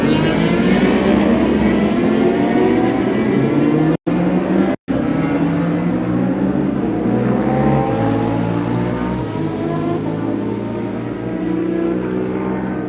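Race cars roll off together on the green flag for the warm-up lap of an endurance race at Snetterton, their engines loud and near, droning and revving continuously with rising and falling pitch as they pull away.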